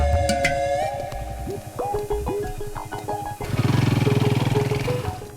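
A motorcycle in a Hindi-dubbed South Indian action film is ridden away by a thief. Its engine bursts into a loud, pulsing rumble partway through, after a stretch of music with tonal swells.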